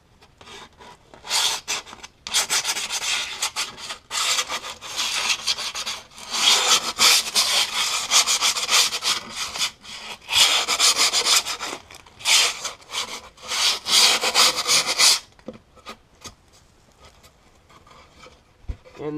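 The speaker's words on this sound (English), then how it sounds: "I'm taking the excess grip tape and I'm just sanding down the edges" Steady rasping and rubbing of abrasive sanding excess grip tape along a skateboard deck edge, in repeated back-and-forth bursts for about fifteen seconds, then quieter scraping near the end.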